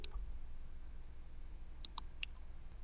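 A few quick, faint computer mouse clicks sound in close succession, sharp and dry over a low steady hum, with no voice present.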